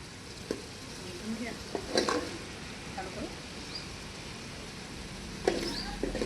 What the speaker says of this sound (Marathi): आता मी यात टमाटो पेस्ट घालते